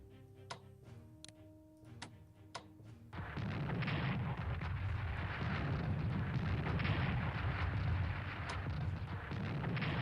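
Coastal guns firing in a Strategic Command WWII strategy game: a few sharp ticking clicks at first, then a loud, sustained rumbling barrage of booming artillery that fills the rest of the stretch without letup.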